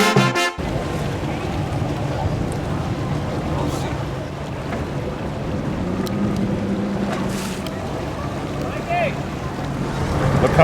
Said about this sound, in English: I guess we're going for a boat ride.